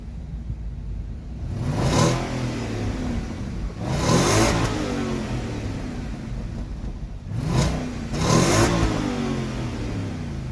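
A 2003 Audi A8 4.2 V8 engine with standard exhaust revs in three or four sharp bursts, each rising and falling back to a steady, rumbling idle between them, loud and close.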